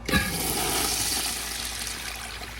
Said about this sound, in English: So now I'm gonna put it on the piston flushometer. All right, now it's on the piston flushometer. Let's give her one flush.